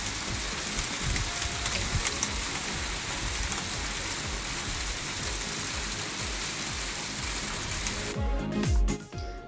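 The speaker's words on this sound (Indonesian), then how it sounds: "Aduh, hujan hagel." Hail pelting down outdoors in Merauke, a dense, steady clatter of hard pellets drumming on surfaces that stays loud and unbroken, with a louder patter of impacts near the end.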